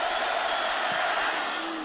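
Crowd noise at a 2009 Tennessee versus Florida college football game in a stadium, a sustained broad roar of yelling fans heard from a distance, under a faint voice.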